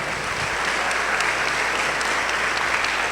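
A church congregation claps for the Lord during a communion service, a dense, continuous burst of applause at steady loudness throughout, with no speech over it.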